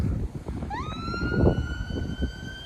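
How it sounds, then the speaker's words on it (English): A fire engine's siren going around a roundabout starts about a second in with a rising wail, then holds a steady tone at middle distance over rumbling traffic. "That's a fire engine over on the left,"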